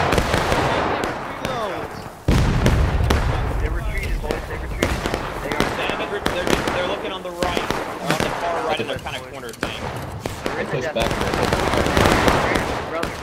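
Musket volley fire in the War of Rights game, with repeated loud crackling bursts of many shots layered over shouting voices, rolling on in waves across the whole stretch.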